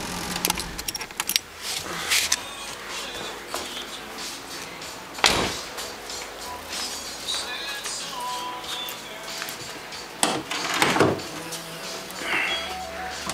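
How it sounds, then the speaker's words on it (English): A car's hood release popped and the engine switched off, heard as a few sharp clunks and metallic knocks spaced across the stretch over a low background rumble, with no one talking. "I'll pop the hood, turn it off."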